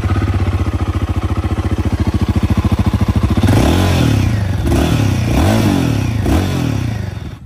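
Royal Enfield Guerrilla 450 engine running close by, first a steady rapid thump at idle, then a few short revs that swell and fall back.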